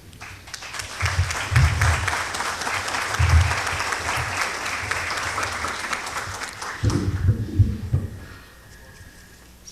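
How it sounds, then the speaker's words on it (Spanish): Audience applause at a solemn tribute ceremony, a loud sustained ovation that rises, holds for several seconds and then fades away toward the end. "a cargo del compañero Sergio Carrera Umaña, a quien recibimos con nuestro aplauso"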